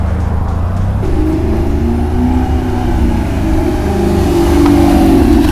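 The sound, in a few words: rotary-engine car revving with open exhaust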